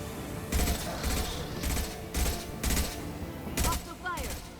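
Bursts of gunfire ring out in the video game Mass Effect 2, about seven evenly spaced loud shots or short volleys at a steady rhythm, with faint clanks and a brief electronic chirp near the end.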